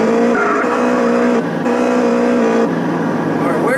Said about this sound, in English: let's go ahead and take this motorcycle right here